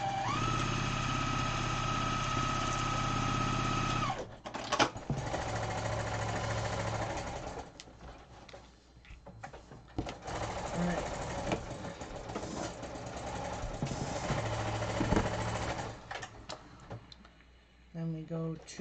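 A sewing machine stitches pineapple quilt blocks in a steady, close whirring run that stops after about four seconds, followed by handling noises and intermittent short bursts while someone talks.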